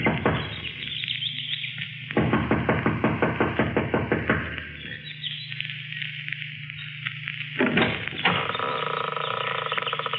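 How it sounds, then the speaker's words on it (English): Impatient knocking on the front door of a mountain lodge comes in two bursts of rapid, repeated raps, fairly close and loud, separated by a short pause. "She knocks impatiently"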